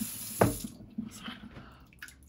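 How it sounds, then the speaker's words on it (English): Rice being rinsed in water at a kitchen sink, with a sharp splash and slosh near the start followed by quieter swishing and trickling water, close and fairly soft, no talk. "You're rinsing off the white, trying to make the water clear."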